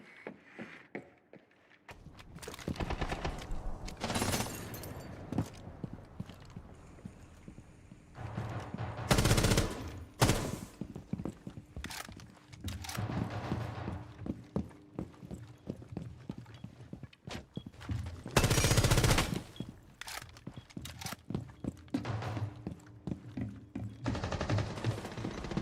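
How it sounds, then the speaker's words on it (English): Gunfire in a Rainbow Six match comes as scattered bursts and rapid volleys, some loud and close, others fainter, spread between quieter stretches with footsteps. "Why are you shooting at me?"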